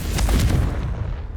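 A Confringo fire spell in Hogwarts Legacy bursts in a deep, loud booming blast that rumbles and fades over about a second.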